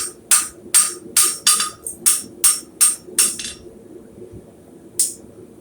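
Hammer blows ring out on steel horseshoe bar stock struck over an anvil's horn, about nine sharp, bright metallic strikes in a steady rhythm, then a pause and one final clang, close and loud.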